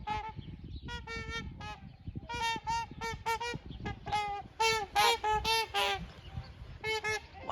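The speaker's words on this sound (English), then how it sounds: "Wow, you guys, those are swans." Swans honking repeatedly in loud, harmonic, nasal calls from a flock, overlapping in rapid bursts over an outdoor garden in Alberta, Canada, in early spring.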